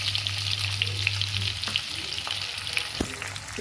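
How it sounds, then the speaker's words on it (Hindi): Garlic and ginger paste sizzles steadily in a hot pan for spicy macaroni, a continuous close frying hiss with a low hum underneath and a few stirring scrapes near the end, no voices. "और अब मैं डालूंगी लहसुन और अदरक का पेस्ट।"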